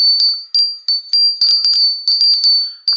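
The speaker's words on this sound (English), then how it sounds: "So he's a hanging Father Christmas bell." A small hanging Father Christmas bell rings in a quick, uneven series of bright, clear tings, close and alone, each strike decaying briefly before the next.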